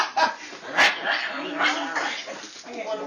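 A small dog, sounding like a chihuahua, gives several sharp yipping barks with whimpers between them, fairly close.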